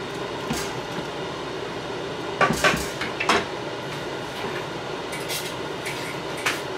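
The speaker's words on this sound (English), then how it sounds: "I'm gonna stir it up." A spoon stirs food in a cooking pot, giving a cluster of metallic scrapes and clanks in the middle and a few lighter knocks later over a soft background hiss, close up with no talk.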